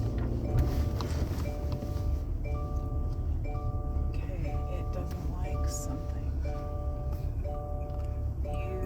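A Subaru seatbelt reminder chime sounding inside a car, a steady series of short repeated electronic tones with a regular rhythm over low cabin rumble, with people talking faintly underneath.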